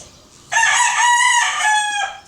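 A single rooster crows once, loud and near, a long bright cock-a-doodle-doo that rises and trails off, with quiet around it.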